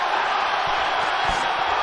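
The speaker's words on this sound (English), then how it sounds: "They're cheering every punch he throws." A dense, steady roar of a boxing arena crowd cheering during a Jake Paul versus Julio Cesar Chavez fight, continuous and loud with no distinct breaks.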